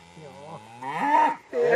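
Scottish-breed cattle on a mountain farm in Norway's Valdres mountains give loud, close, drawn-out moos that rise and bend in pitch, with a short gap before a final call.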